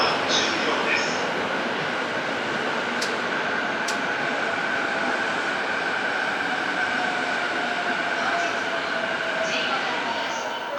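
JR East train rolling into a station platform, a sustained rumble of wheels and carriage noise lasting throughout, with a couple of brief sharp clicks and faint announcement-like tones over the din.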